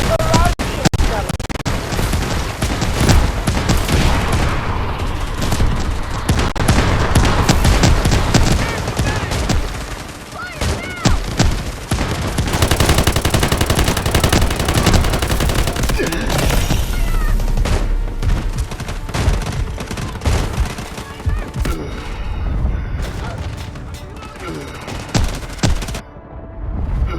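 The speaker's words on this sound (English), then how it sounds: "Requesting artillery barrage! Roger that. Artillery barrage incoming." Artillery barrage in the Delta Force Mobile video game, dense and loud, with heavy blasts, rumbling impacts and rapid gunfire layered together almost without a break, plus brief in-game voices.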